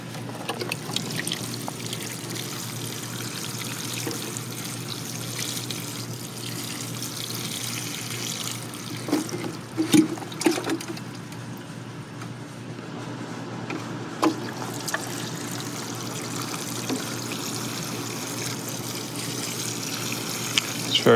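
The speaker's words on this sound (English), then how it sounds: "since this one has just been planted, I'm gonna water it in" Water pours continuously onto a newly planted Red Gem goumi shrub on a hot day, with a steady close splashing gush and a few brief louder splashes.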